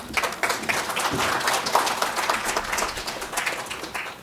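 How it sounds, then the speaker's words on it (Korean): Audience applause welcoming an Inha University energy resources engineering professor at a Korean forum on overseas resource development, a steady wash of many hands clapping for a few seconds. "큰 박수 부탁드리겠습니다."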